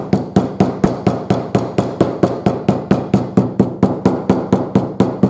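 Rapid, evenly spaced tapping on leather edges to square them, about five blows a second, a crisp and steady hammering close by with no voices.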